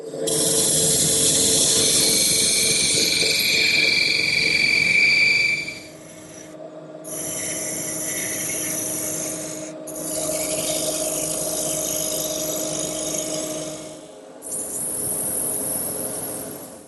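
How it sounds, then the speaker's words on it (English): Parting tool cutting into wood spinning on a lathe, a steady rasping scrape in long passes broken by short pauses, close and loud. "now I'm going to start with this feature right here with my parting tool"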